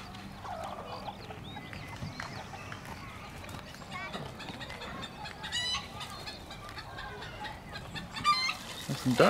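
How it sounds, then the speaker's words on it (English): Chickens clucking and fowl calls, with ducks nearby, scattered through a noisy outdoor scene, with people talking nearby. "The chickens."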